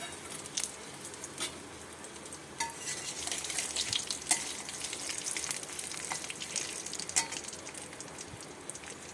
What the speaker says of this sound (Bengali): এবার যে সবজি ভাজার যে তেলটা আছে এর মধ্যে 5 ফোড়ন, শুকনো লঙ্কা, তেজপাতা দিয়ে দিচ্ছি